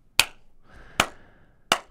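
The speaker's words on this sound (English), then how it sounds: "Clap test." Three sharp, close hand claps come at roughly even intervals for a sound check, each with a quick decay, in an otherwise quiet room.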